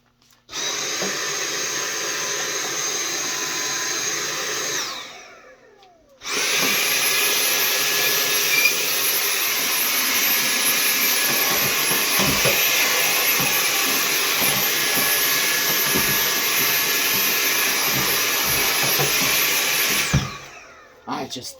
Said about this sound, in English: I'm gonna use a vacuum around the edge real quick, nice and light.